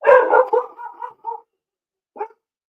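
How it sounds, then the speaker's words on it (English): A dog barks in a quick burst of several loud yaps that trail into softer whimpering yips, then one short bark after a pause, with no one talking over it. "My dog's going crazy for some reason."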